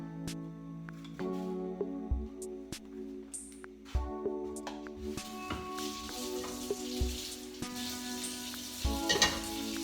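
Onion sizzling as it fries in coconut oil in a pan, a soft steady crackle with occasional spoon clinks and scrapes, growing slightly louder and busier toward the end, no voices.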